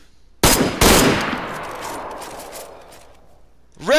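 Rifle volleys at a funeral salute crack out loudly, two sharp shots in quick succession ringing into a long fading echo, with another volley starting at the end.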